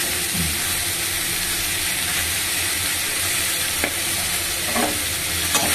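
Tomato goes into a sizzling frying pan alongside bay leaf for a soybean and bottle gourd curry, a steady loud hiss of frying with occasional sharp crackles and stirring scrapes throughout.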